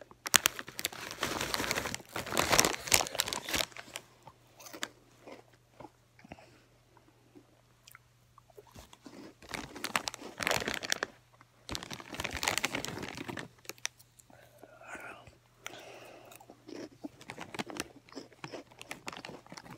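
Crunchy spicy snacks eaten up close for an ASMR recording, with dense bursts of crisp biting and chewing that come in waves, separated by quieter stretches with a low steady hum beneath.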